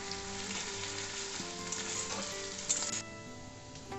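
Onions fry in a pan for mutton kosha, a steady, dense sizzle that stays close and even, with a few faint clinks and one brief knock near the end. No one speaks.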